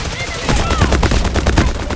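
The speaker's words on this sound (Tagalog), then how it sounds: "Grabe naman yung putok na yun." Bursts of video-game gunfire come in a rapid, loud volley of repeated shots, close and punchy, with some talking underneath.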